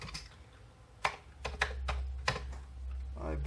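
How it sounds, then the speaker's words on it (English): Keys on a Commodore 64 keyboard are pressed in a few sharp, irregular clicks, fairly quiet and close, over a low background hum. "Keyboard seems to be working."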